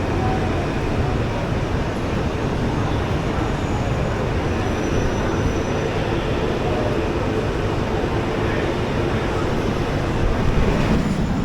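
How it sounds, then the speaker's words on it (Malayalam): Inside a moving passenger train in Italy, a steady, dense rumble of wheels and carriage noise fills the whole stretch, loud and unbroken, with faint hiss above it. "ട്രെയിനിൽ കയറി ഗൈസ്"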